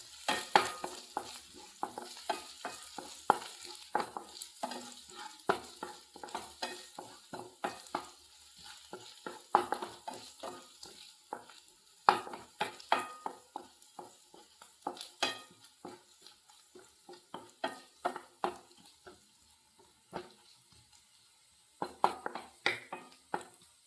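Food sautéing in a pan while a spoon stirs it, giving a steady run of scraping, tapping strokes over a soft sizzle, close and fairly quiet with no talking.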